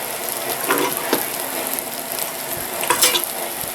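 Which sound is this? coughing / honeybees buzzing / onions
onions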